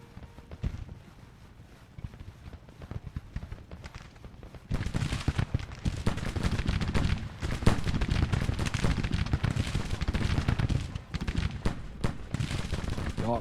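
Musket and rifle volleys rattle through a Civil War strategy game battle, with mounted rifles carrying mixed muskets; dense, continuous crackling gunfire grows louder midway and keeps up steadily to the end.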